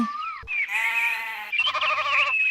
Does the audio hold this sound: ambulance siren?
no